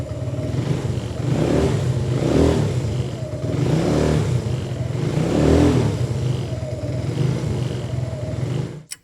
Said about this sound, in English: So that runs from the first kick. I'm going to let it run now, and we'll see when it stops.